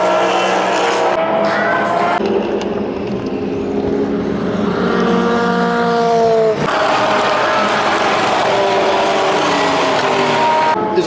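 Race cars drive past on the circuit in the early morning hours of a 24-hour endurance race, with engines rising and falling in pitch as they pass at a distance, a steady, dense roar throughout.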